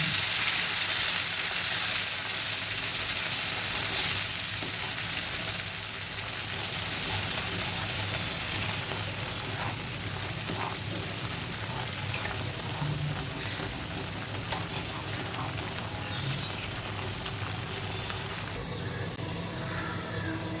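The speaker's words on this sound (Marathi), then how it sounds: "हे वाटप तेल सुटेपर्यंत चांगलं परतून घ्यायचं." Masala paste sautés in oil in a pan for a Malai Methi Matar dish, giving a steady, close, crackling sizzle that runs evenly throughout.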